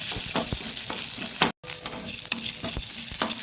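Onion and ginger sizzle steadily in a pan while being stirred, with a continuous close frying hiss and a brief dropout partway through.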